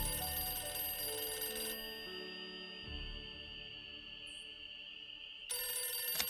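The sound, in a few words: telephone ringing in the video game Nancy Drew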